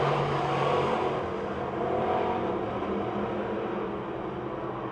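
Race cars roar wheel to wheel down the front straight into turn one at a speedway, a loud continuous engine drone that swells slightly and fades, heard from trackside without talk.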